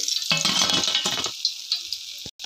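Mirchi bajji frying in oil in a kadai, a close, loud bubbling sizzle that erupts as the battered chillies drop in and then settles into a lighter hiss, with no talking.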